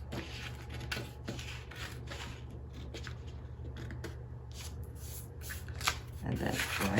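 Scissors snip through a paper sewing pattern while adjusting princess seams, a series of close, crisp cuts at a steady rhythm with a faint low hum underneath.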